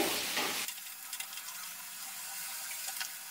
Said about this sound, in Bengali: এবার গ্যাসের ফ্লেমটা জোরে দিয়ে আমি মশলাটাকে কষিয়ে নেব।